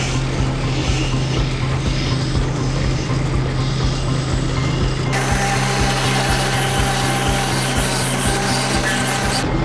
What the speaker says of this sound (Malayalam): ഇത്തരത്തിലുള്ള മരം തിരഞ്ഞെടുത്തു കഴിഞ്ഞാൽ അവയെ നിശ്ചിത അകലത്തിൽ മുറിച്ച്